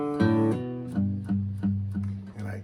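Acoustic guitar playing a song intro: a ringing chord followed by a steady series of plucked, partly muted bass notes and strums, close and clear.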